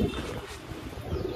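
A wild pigeon on a neighbouring rooftop coos in a low, steady rumble, close and continuous for a brief moment.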